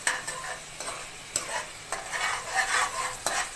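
Fenugreek seeds frying in a pan for Andhra crab curry, stirred with a spoon: a continuous bright sizzle broken by several sharp scraping clicks, close and fairly loud.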